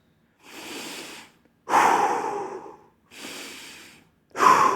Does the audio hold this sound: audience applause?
no